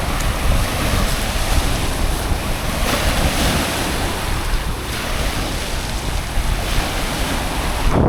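Sea waves wash steadily onto the beach at a resort in Lobo, Batangas, a continuous loud surf roar with wind buffeting the microphone throughout and no voices.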